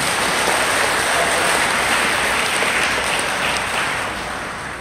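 Audience applause at a religious and health lecture, a thick uniform roar of many hands clapping, loud and continuous before slowly fading at the end.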